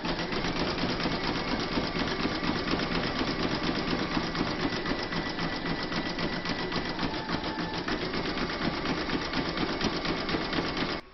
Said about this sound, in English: you're now going to stitch round number 4, and that's going to do the satin stitching all around the edge of the cuts